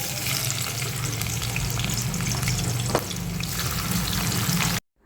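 Chopped onion frying in oil in a wok gives a steady, close, dense sizzle with faint stirring, continuing alone without speech before cutting off abruptly near the end.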